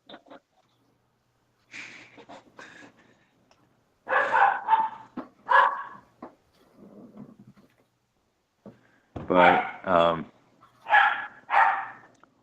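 Dogs bark in the background during a tabletop role-playing session, with several sharp, repeated barks near the end and a voice speaking briefly between them.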